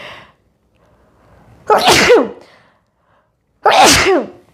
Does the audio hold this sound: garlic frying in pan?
no